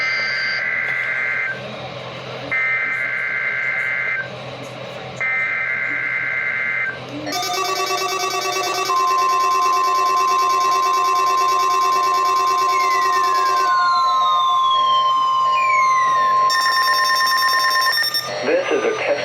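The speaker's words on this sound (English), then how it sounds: "The preceding signal was a test of the weather radio station's public warning system." Weekly required test from NOAA Weather Radio station KGG68 in Bay City, Texas: three loud buzzy data bursts, then a long steady warning tone that ends in further short bursts, all loud and clear.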